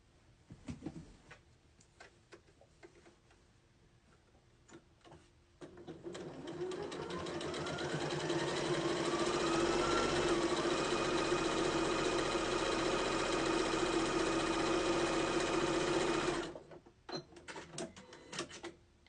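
A sewing machine stitches a quarter-inch seam on a string quilt, its motor whirring up after some handling noises, running steadily and closely for about ten seconds, then stopping, followed by light fabric handling.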